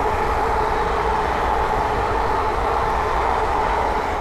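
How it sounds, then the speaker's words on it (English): A pair of London Northwestern Railway Class 350 electric units speeds past on the West Coast Main Line at Linslade, a loud, steady roaring rush of wheels and air close by with no talk. "the next train to pass by is a pair of London to Western Railway Class 350s from London Euston to Milton Keynes Central"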